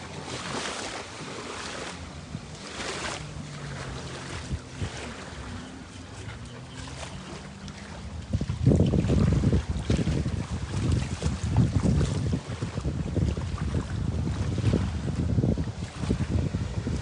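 A jet ski rides on open water near home, its engine droning steadily and rising louder about halfway through, with constant wind buffeting the microphone and water rushing underneath.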